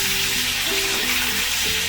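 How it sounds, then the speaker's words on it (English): Fish fingers frying in hot oil give a steady, dense sizzle with crackling bubbles throughout, close and fairly loud, with no talking. "we can flip it over and continue frying it until it is nice golden brown"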